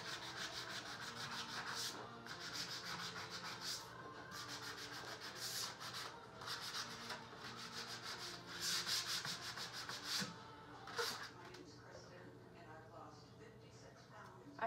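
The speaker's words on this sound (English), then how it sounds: "I'm just going to hand sand that just a little bit and fill these holes." Hand sanding wooden thrift-store furniture, a steady scratchy rubbing that repeats in strokes for the whole stretch, close and fairly loud, with a few brief louder scrapes near the end.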